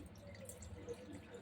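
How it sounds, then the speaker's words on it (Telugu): Water trickles and drips steadily onto tamarind in a kitchen bowl, a soft close splashing with no talk over it. "దాంట్లో వాటర్ వేద్దాం"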